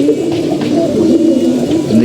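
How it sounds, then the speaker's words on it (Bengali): Pigeons cooing steadily at a home loft, a low continuous murmur of overlapping coos at close range with no pause across the short stretch. "কবুতর হইলো গিয়ে ডাকাটাকি শুরু করে দিচ্ছে"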